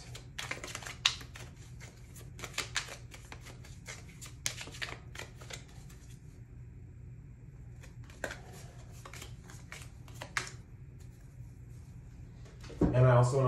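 Tarot cards are shuffled and handled near the microphone, giving irregular crisp riffling and flicking bursts over a low background hum, with a louder rustle near the end.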